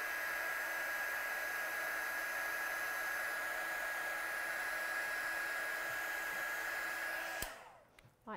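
A heat embossing tool blows hot air over a stamped card in a loud, steady whoosh lasting several seconds, then cuts off abruptly.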